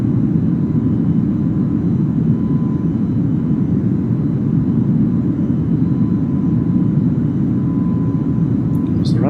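Airliner descending on approach to land at King Shaka International Airport in Durban, its steady broadband jet-engine roar filling the cabin continuously and loudly, with a faint tonal hum running through it.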